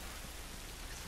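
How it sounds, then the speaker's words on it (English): Steady rain in The Last of Us video game, a dense continuous hiss of drops falling on surfaces, even and unbroken across the short stretch at a moderate, faint level. "Oh, at least we're out of the rain."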